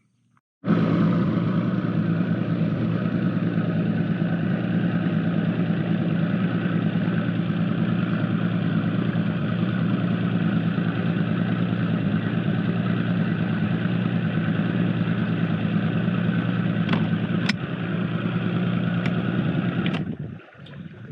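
A boat engine drones steadily at close range for about twenty seconds, a constant low rumble that cuts off sharply near the end.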